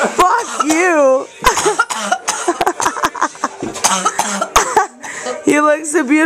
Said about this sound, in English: You look so beautiful when you cough.